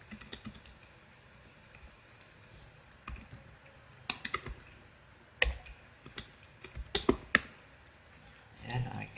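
Sign-up details being typed on a computer keyboard, with irregular bursts of sharp key clicks and taps between quieter pauses, close and fairly loud, while a voice talks faintly underneath.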